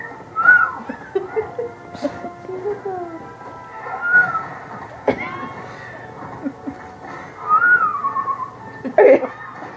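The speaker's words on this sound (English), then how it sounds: "Okay, blow the whistle." Several short, shrill whistle blasts come in bursts among children's voices and laughter, fairly close by.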